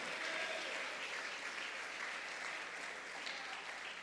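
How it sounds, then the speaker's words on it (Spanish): Congregation applauding steadily at a church service, a dense sustained clapping that holds level for the whole stretch with no voices over it. "Démosle un aplauso más al Señor"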